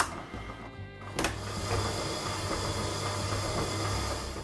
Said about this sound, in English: Now using a hand mixer or a stand mixer,